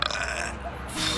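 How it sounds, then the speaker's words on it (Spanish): A deep, forceful burp rumbles out during a casual burping contest between friends, lasting about a second over a noisy background, with a brief rustle at the end. "¿Crees que me ganaría rollo un concurso de eructos?"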